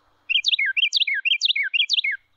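A Carolina wren sings a loud, clear, close song: four quick repeats of a rolling three-part phrase over about two seconds against silence.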